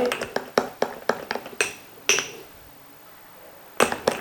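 A spoon stirs juice in a glass, clinking sharply against the sides in a quick run of rings, then pausing before one last clink near the end. The juice is being filtered for a natural stamina and energy drink.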